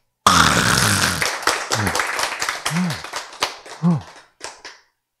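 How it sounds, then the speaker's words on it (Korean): A lecture audience at a Bible talk breaks into a short burst of dense clapping that fades within about a second, followed by someone speaking. "박수."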